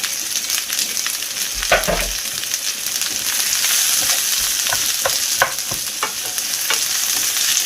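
White onions tipped into hot oil with popped mustard seeds for an egg puff filling, giving a steady close sizzle with stirring scrapes and light clatter throughout, no voices.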